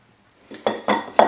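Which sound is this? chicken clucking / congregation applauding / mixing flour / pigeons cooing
mixing flour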